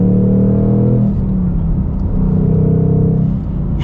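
A 2021 Ford Mustang Mach 1 V8 revs up and drops back in quick throttle blips, heard loud and close from inside the car, with a deep rumble and shifting engine tones and no talk.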